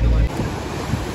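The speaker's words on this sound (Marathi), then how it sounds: "जाम मोठ्या लाट आहे" Big ocean waves break on a beach beside a temple, giving a brief, loud, close wash of surf mixed with wind rumble.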